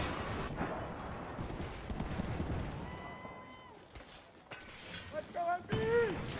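Gunfire rattles through an Apex Legends match, a dense spread of shots and booms mixed with in-game tones and chirps, while a commentator talks over it continuously.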